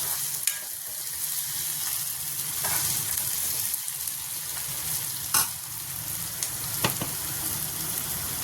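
Oil sizzles steadily in an iron kadhai as onion and chilli fry, with a few sharp spatters and occasional stirring scrapes, close and fairly loud, no talking.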